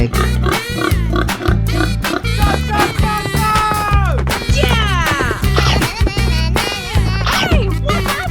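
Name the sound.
pig oinking in a 3D animal video game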